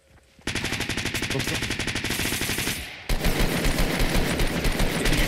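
Rapid automatic gunfire from a weapon in the video game Fortnite, loud and close, a sustained rattling burst that shifts into a heavier, denser volley of shots partway through.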